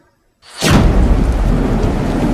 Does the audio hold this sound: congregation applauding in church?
no